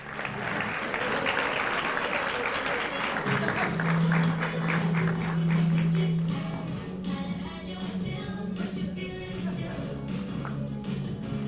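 Applause for young student models in cowboy boots and backpacks at a back-to-school kick-off, moderate clapping from a crowd with a sustained low tone and music-like hum beneath, fading somewhat toward the end.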